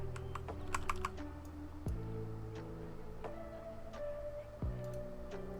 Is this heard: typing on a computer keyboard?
yes